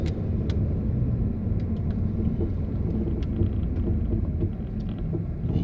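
Car driving along a road in the Emirates, a steady close engine and tyre rumble with wind buffeting the microphone, continuous with no talk.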